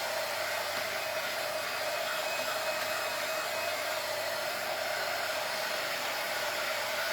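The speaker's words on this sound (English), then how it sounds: "I always get my dryer too close to the paint" A hair dryer drying paint blows with a steady, loud whooshing hum that continues unchanged throughout, with no voices.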